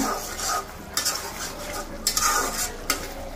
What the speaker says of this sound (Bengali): 3 থেকে 4 মিনিট আমি মশলাগুলোকে ভালোভাবে কষিয়ে নেব। কিছুক্ষণ পর পর মশলাগুলো নাড়াচাড়া করে নিতে হবে।